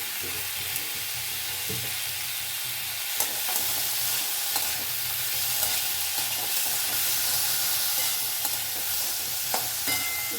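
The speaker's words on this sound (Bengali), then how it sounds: "এইভাবে একটুখানি নাড়াচাড়া করে নেব।" Ginger paste stirred into fenugreek greens frying in a pan, a steady close sizzle and hiss with occasional scraping stirs throughout.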